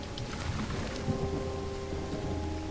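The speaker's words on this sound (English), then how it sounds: "It's raining cats and dogs here." Heavy rain pours steadily in the Call of the Elder Gods video game, a constant dense hiss with low rumbling underneath and a faint droning tone, no voices present.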